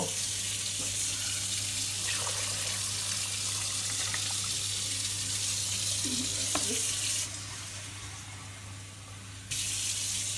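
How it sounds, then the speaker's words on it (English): Water pours from a tap into a Thermomix bowl over chopped vegetables for pumpkin soup, a steady close splashing rush that drops in level partway through and then resumes. "Now we're gonna add water, enough to basically, well, not quite cover, but just about cover all these veggies."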